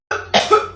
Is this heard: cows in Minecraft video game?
no